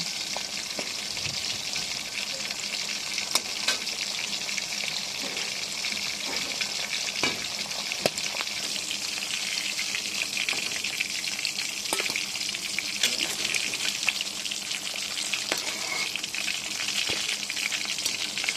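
Pangas fish fries in oil with a steady, dense sizzle and occasional sharper pops and crackles, close and continuous, with no voices.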